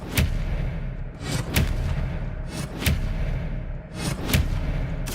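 Spellcasting in Hogwarts Legacy: loud, booming magical blasts strike about four times over a rumbling game soundscape, each a sharp, heavy impact.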